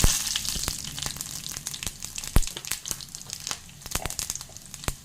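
Mustard seeds and a couple of dried red chilies crackle and sizzle in hot oil, with irregular sharp pops and a few louder spits over a steady frying hiss, close by.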